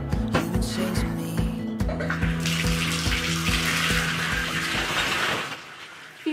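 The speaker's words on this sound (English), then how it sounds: "Shower time." Shower water runs in a cabin in the woods, a bright hiss of spray beneath music with a steady beat, fading out near the end.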